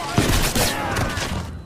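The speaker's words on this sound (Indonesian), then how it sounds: "Ternyata tembakan itu merupakan bantuan dari sang ahli sniper di tim Expendables" In an Expendables action film, a rapid fusillade of sniper gunfire cracks out in several sharp, loud shots over a busy action-scene soundtrack.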